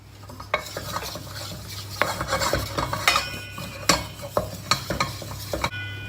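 Flour stirred and roasted in a pot over low heat for a chicken soup, with steady scraping strokes, clinks of a utensil against the metal and a light background sizzle, close and fairly loud with no talk.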